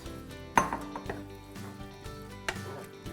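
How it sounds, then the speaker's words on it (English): Chili with beans stirred in a pot, a few quiet spoon clanks and scrapes against metal over a soft, faint background, with one clearer knock near the start and another toward the end. "you're gonna stir all this up"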